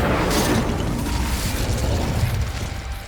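Confringo and Incendio spells exploding in the Hogwarts Legacy video game, a heavy rumbling boom with fiery bursts and crackles that slowly fades, loud and close.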